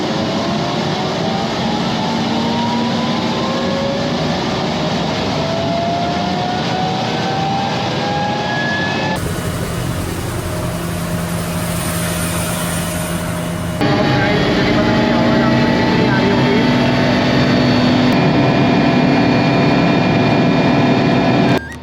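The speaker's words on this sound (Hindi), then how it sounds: "देखिए जो हेलीकॉप्टर का रोटर है ना वो उन्होंने चालू कर दिया है" Steady, loud engine roar with a constant whine runs throughout, an Mi-172 helicopter's rotor running nearby, with a brief shift in tone midway.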